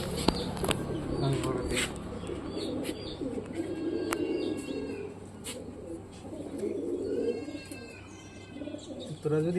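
Pigeons coo in soft repeated calls with occasional chirps, heard close alongside low background voices and movement.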